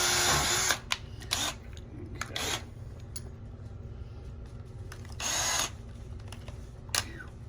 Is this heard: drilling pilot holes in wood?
yes